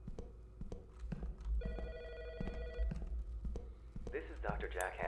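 A phone rings in Autopsy Simulator, a short burst of bright electronic trilling partway through, heard beneath ongoing talk and scattered clicks and thumps.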